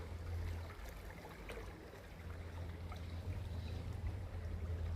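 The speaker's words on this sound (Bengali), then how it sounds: "পানির শব্দ স্রোতের শব্দ পাচ্ছেন, যে এই পানির স্রোত এদিক থেকে আসতেছে" Floodwater rushes past in a fast current, a constant low rumbling wash with a deep steady drone underneath, heard alone at moderate distance without speech.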